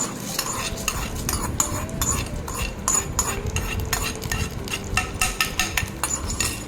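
Oil spices sizzle and crackle in a pan, nearly drowned out by a spoon repeatedly scraping and clinking against the metal.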